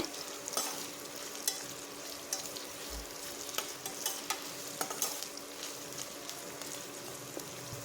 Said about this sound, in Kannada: ಎರಡು ಮೀಡಿಯಂ ಸೈಜಿಂದು ಈರುಳ್ಳಿನ ಸೇರಿಸಿ ಇದು ಕೆಂಪುಗಾಗೋವರೆಗೂ ಫ್ರೈ ಮಾಡ್ಕೋಬೇಕಾಗುತ್ತೆ